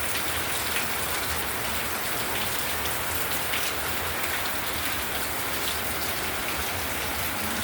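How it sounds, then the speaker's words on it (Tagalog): Heavy rain pours steadily on a rainy day, a dense, continuous hiss of drops drumming on surfaces, loud and close with no letup and no voices. "Ito po ulan oh."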